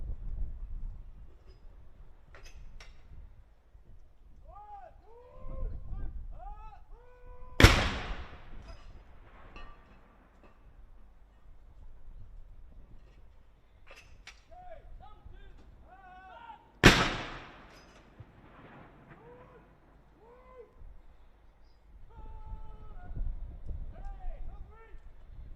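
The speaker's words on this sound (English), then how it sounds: "he puts a little pin through each one as each saluting gun is fired" Blank rounds fired from saluting guns in a 62-gun salute for a coronation anniversary, with two sharp, loud booms about nine seconds apart. Crowd murmur and bleating sheep fill the gaps between the shots.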